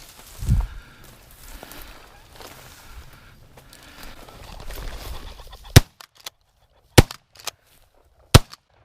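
Shotgun blasts at a flushing pheasant during a public-land hunt in western Kansas: a sharp shot rings out near the middle, followed by three more loud, isolated cracks spaced a second or so apart, after a stretch of rustling field noise.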